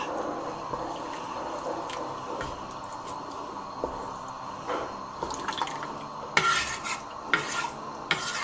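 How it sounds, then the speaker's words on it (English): Okro soup is stirred in a cooking pot, with a spoon scraping and swishing through the thick mixture in steady strokes and a few louder clinks near the end, close and moderately quiet with no talking. "Give it a quick stir."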